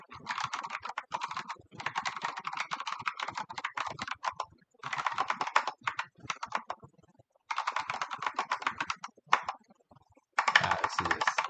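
Fast, sustained typing of C code on a computer keyboard, dense runs of close clicky keystrokes broken by a few short pauses, with nobody speaking.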